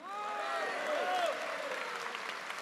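Audience applause at a French political gathering, a steady wash of clapping over a crowd with faint voices and cheers woven through, fairly loud and sustained.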